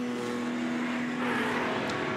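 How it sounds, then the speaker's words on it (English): A big Maserati 8CM racing car at a vintage race sweeps past a two-litre ERA, a loud steady engine roar with a strong low drone, close and continuous, without speech. "There's the power of the big 8cm Maserati, taking it past the 2 litres of ERA."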